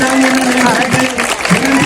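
Applause welcoming the guests at a temple religious gathering, clapping mixed with a steady tonal hum and a voice over it, loud and close throughout the short stretch.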